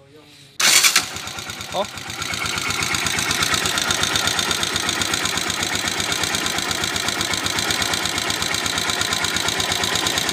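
Engine with a damaged connecting rod cranks and catches, then settles into a steady, fast-pulsing idle, close and loud, with a brief voice near the start.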